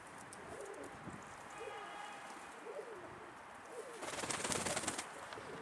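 Several soft pigeon coos repeat at an easy pace, moderately near, over a steady outdoor background, with a brief louder noisy rustle near the end.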